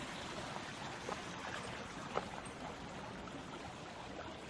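A small stream flows at an old gunpowder mill, a soft, steady trickling wash heard close and alone with a few faint splashes.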